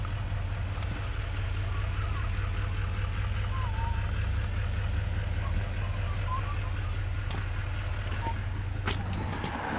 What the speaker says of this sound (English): This would be the Dusen engine.